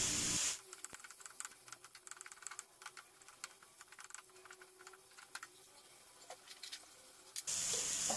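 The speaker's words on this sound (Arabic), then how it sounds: "غادي نشحر بين البصله والفلفله والسدر ديال الدجاج" Onion, pepper, chicken breast and kofta sauté in a hot pan, a continuous close sizzle peppered with rapid crackles that starts suddenly and stops just as abruptly.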